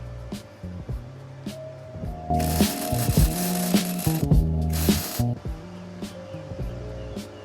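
Arc welding lays a bridge pass on metal, loud crackling hiss in two bursts of about two seconds and one second, with mechanical clicks and rattles before and after.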